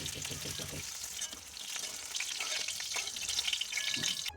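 Potato pieces frying in hot oil that was just used for frying eggplant, a dense, close crackling sizzle that holds steady throughout and swells slightly near the end.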